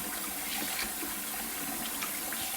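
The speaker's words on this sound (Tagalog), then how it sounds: "binababay ko to sa tubig para matanggal yung ice" Tap water runs steadily over a tub of frozen sardines to thaw off the ice, a continuous broadband splashing rush that stays fairly loud and even throughout, with no voices.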